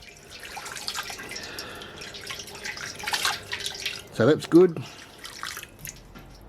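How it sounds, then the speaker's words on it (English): Water is pumped and recirculated through a BrewZilla Gen4 brewing system during cleaning, giving a soft trickling, dripping wash, then two short, louder sloshing bursts as someone speaks briefly. "Run it through the pump again this way, just in case, you know, some got down in the bottom there."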